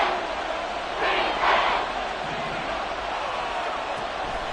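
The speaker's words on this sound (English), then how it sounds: "The crowd here in the Dome making things difficult." A domed stadium crowd roars in the Madden 24 football game, a steady loud wash of cheering that swells briefly, with a commentator talking over it.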